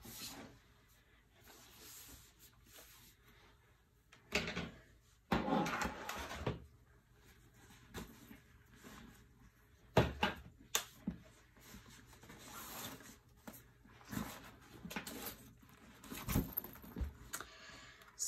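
A 15-inch laptop slides into a Milloo Minos-13 bag with quiet, intermittent bursts of fabric rustling and scraping, separated by near silence.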